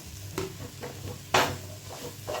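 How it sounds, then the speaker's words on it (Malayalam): Cleaned mushrooms are tipped into masala in a pan and stirred, giving a few distinct scraping and clattering strokes over a faint, low sizzle, close and fairly quiet with no talk. "ഇനി നമുക്ക് ഇതിലേക്ക് വൃത്തിയാക്കി വെച്ചിരിക്കുന്ന കൂണും കൂടി ചേർത്ത് കൊടുക്കാം"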